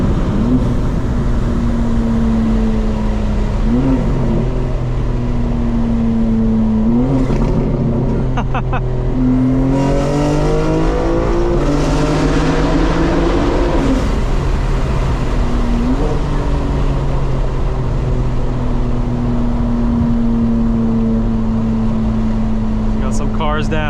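A 2025 BMW M4 drives through a tunnel, its exhaust droning steadily and close. Engine pitch rises and falls with the throttle, and a few crackling burbles stand out midway. A person talks over it at times.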